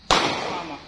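A single sharp, loud bang from a gun fired as a prank, cracking out close by and then decaying into a short ringing tail.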